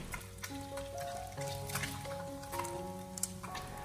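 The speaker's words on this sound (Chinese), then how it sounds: "再继续给它小火慢慢的煎炸一下，把鹌鹑蛋给它炸至微微的起虎皮" Quail eggs slowly frying in a little oil in a wok over low heat give a soft, steady sizzle with faint crackles and pops, close and quiet, with no talking.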